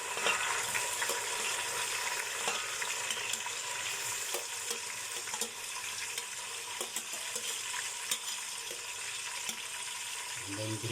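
Onions and tomatoes frying in a pan for chicken dum biryani give a continuous bright sizzle, with stirring scrapes and small clatters throughout and a stronger burst near the end.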